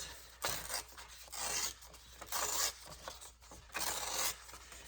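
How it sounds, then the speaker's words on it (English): A scrap of fabric or paper being torn by hand, several separate ripping strokes in bursts with short pauses between them, close and fairly loud. "I'll cut it about in half. And then I will tear that."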